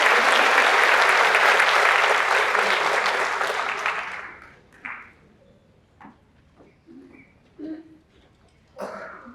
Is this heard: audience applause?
yes